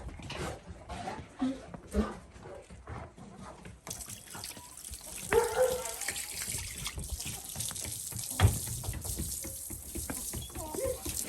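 Water poured for backyard chickens as their drinking water is changed, heard as a faint running, splashing trickle under a continuous outdoor background, with occasional small knocks and a soft voice now and then.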